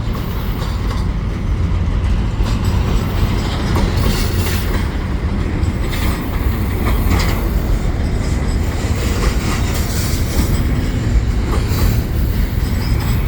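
A westbound train passes at Marshall Avenue, loud and close, with continuous rumbling wheels, rhythmic clickety-clack over rail joints and faint squeals running throughout with no break.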